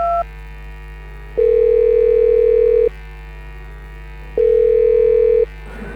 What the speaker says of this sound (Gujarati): ફ્રેન્ડ્સને કોલ કરવો જ પડશે